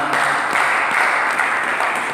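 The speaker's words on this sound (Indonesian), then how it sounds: "Berikan tepuk tangan bagi Tuhan." A church congregation claps for the Lord during a sermon, giving a dense, even wash of applause that holds steady and close throughout.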